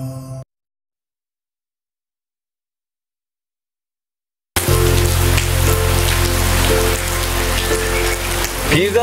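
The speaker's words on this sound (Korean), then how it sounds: "비가 내리고" After a short burst of sound and a few seconds of silence, steady rain begins falling, loud and close, with a dense hiss of drops on surfaces.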